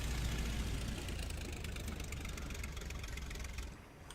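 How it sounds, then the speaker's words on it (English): In the flight sim game Rise of Flight, a WWI aircraft engine idles with a faint, rough, knocking rumble, then fades and drops off as it is shut down near the end. "Just go ahead and shut the engine off there."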